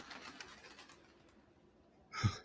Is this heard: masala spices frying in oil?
no